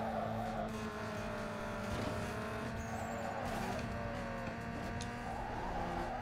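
Car handbrake skid in Need for Speed Underground 2, a steady racing-engine drone running throughout with a brief tire scrub near the middle, loud and close with no talk.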